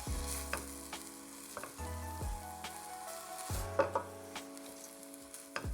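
Rice grains stirred through melted butter in a pan give a steady soft sizzle with scraping strokes of a spoon at intervals, close and fairly quiet, with no voices.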